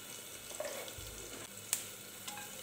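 Two dried red chillies frying in plenty of hot refined oil in a pan, a soft steady sizzle with a few faint clinks, close and quiet with no voices.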